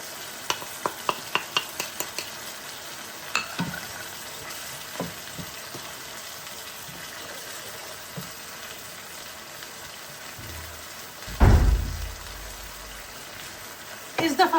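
Spices such as salt, cumin, whole red chilies, nigella seeds, chili powder and turmeric sizzling in a pan for mash daal, with a spoon clinking and stirring in quick taps at first, then a louder burst of frying hiss near the end.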